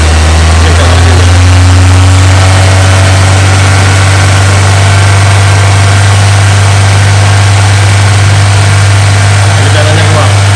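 A Honda engine held at a high idle around 3000 RPM during a catalytic converter cleaning treatment, a loud, constant low drone with steady vibration throughout.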